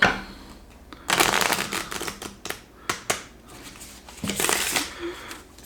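Rapid riffling and flapping of playing cards being shuffled, close and crisp, in several bursts with brief pauses between.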